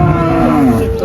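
A calf at a cattle market in Faridpur, Bangladesh, gives a loud, close, drawn-out moo lasting about a second, with market bustle underneath.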